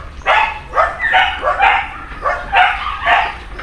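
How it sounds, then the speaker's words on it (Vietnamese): A dog barks in a series of sharp, close, loud yelping barks in an uneven rhythm, about seven bursts, with no talk over them. "Cái con cà phê sữa bên kia nó phát hiện nên nó sủa."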